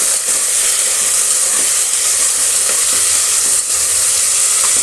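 Finely chopped tomatoes fry in a pan for a fenugreek-leaf chicken biryani, giving a steady, close, continuous sizzle and hiss with faint stirring scrapes and no talk.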